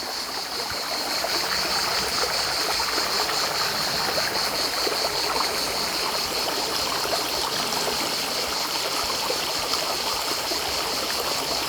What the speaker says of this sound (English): If the water is flowing gently down in between the boulders, it's such a lovely place.